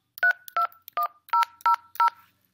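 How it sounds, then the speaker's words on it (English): Six DTMF keypad tones as a phone number is dialed on a computer calling app, each a short, clear dual-pitched beep in a steady, evenly spaced sequence with silence between. "I'm going to enter a bank's phone number just to show you how this works"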